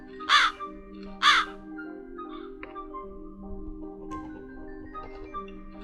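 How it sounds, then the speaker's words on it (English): Two loud, harsh crow caws from the video game Crowalt ring out close together near the start, followed by quieter game ambience with a low steady hum and faint scattered clicks. "It's like the crow won't let me in for some reason."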